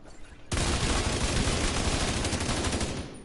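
AK rifle fired at the gun range in The Division 2: a loud, sustained burst of rapid automatic gunfire lasting nearly three seconds, dense and close.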